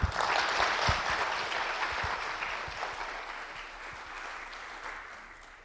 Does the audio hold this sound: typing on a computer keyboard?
no